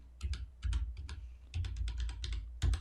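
Rapid typing on a computer keyboard, with bursts of clicky keystrokes separated by short pauses, close and clear with no talking.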